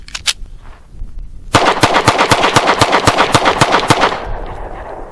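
A Sky pistol fires a rapid string of about a dozen sharp, loud shots in close succession, preceded by a few quieter cracks and clicks.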